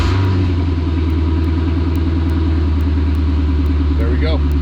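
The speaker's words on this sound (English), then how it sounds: "you'll hear the engine crank" Chevrolet Corvette with a VATS bypass, its engine turning over and catching into a steady, loud idle rumble that runs throughout, with a brief rising whine near the end.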